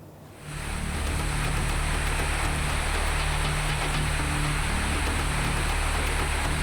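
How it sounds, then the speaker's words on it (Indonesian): Heavy rain driven by strong wind lashes a district in Maros, South Sulawesi, a dense, steady roar that rises quickly in the first half second and then holds loud and unbroken. "hujan deras disertai angin kencang menerjang 3 kecamatan di Kabupaten Maros, Sulawesi Selatan"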